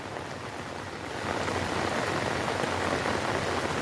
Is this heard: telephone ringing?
no